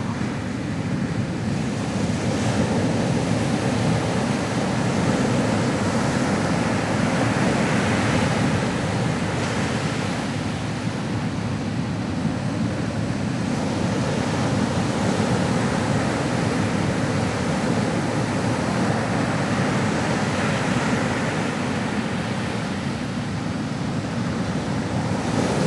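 Ocean waves wash and surge continuously in a broad, steady roar, with soft swells rising and falling over the full length and no voices.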